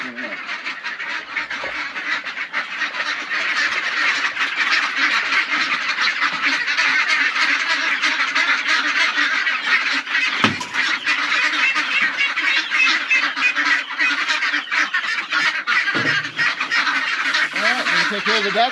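A dense flock of ducks and geese quacks and honks continuously, loud and close, with occasional louder calls standing out.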